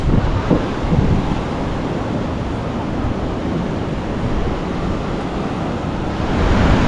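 Ocean waves breaking on the beach at Pacific Beach, San Diego, a broad continuous roar of surf mixed with wind noise, loud and steady throughout with no talking.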